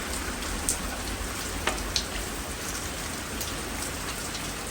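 Hard London rain falls in a continuous close wash of hiss, dotted with a few sharper individual drop hits, and no one speaks.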